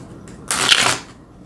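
A deck of tarot cards shuffled in one quick riffle lasting about half a second, a close, bright, papery burst rising from near silence and fading away.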